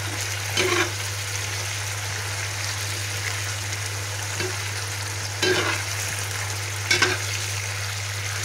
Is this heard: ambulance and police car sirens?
no